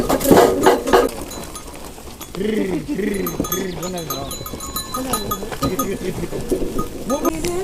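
A flock of sheep bleats repeatedly as it is let out of a village barn, many overlapping cries near and far, with clanking bells and some human voices mixed in.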